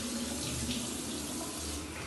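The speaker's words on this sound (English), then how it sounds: "just splash some water on your face" Water runs steadily from a tap into a sink, splashed onto a face, a continuous close gushing and splattering with no voices.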